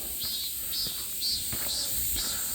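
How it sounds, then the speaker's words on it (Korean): Loud, steady cicada buzzing in repeated high-pitched pulses, several in a row, with faint footsteps underneath on a Gwanaksan mountain trail. "매미 소리 시끄러울 정도네요"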